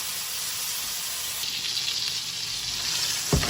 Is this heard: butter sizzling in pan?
yes